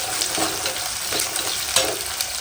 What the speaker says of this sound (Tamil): இப்போ நல்லா சின்ன வெங்காயத்தை வந்து வதக்கிடலாம்